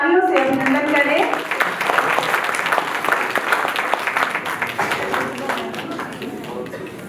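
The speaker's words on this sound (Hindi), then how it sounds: "सभी जोरदार तालियों से अभिनंदन करें" An audience in a hall gives a dentist from the district civil hospital a loud ovation, dense clapping that rises as a voice finishes speaking and keeps on strongly, with more talk returning near the end.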